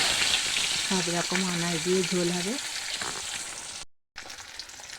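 Fish frying in hot oil, a steady close sizzle and crackle running throughout, with a voice speaking briefly over it before a short dropout near the end.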